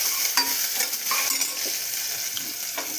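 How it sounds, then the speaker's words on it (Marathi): Onions sauté in oil with mustard seeds and cumin for veg pulao, a steady bright sizzle broken by light intermittent spatula scrapes, close and without talk. "कांद्याला छान असं परतून घ्यायचं"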